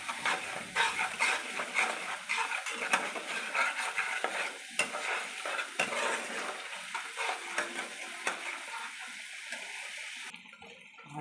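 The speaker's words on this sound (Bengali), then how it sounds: "ভালো করে মশলাটা কষে নেবো আমি, যতক্ষণ তেল না ছাড়ে" Spice masala with turmeric and chillies sizzling in hot oil while being stirred in a pan, scraping and frying crackle close up, steady with brief pauses, no talking.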